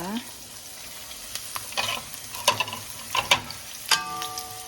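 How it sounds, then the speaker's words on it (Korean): Onion and other vegetables stir-frying in a pan for Mongolian beef, a crackling sizzle with several quick spatula scrapes and taps up close, and no speech. "야채를 지금 이렇게 이거부터 먼저 넣고 볶을게요. 양파."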